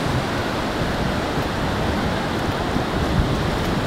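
Ocean surf at Rockaway Beach, Oregon rushes in a steady, broad wash of noise with no distinct breaks, loud and continuous without voices.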